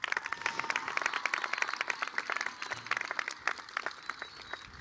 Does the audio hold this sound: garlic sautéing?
no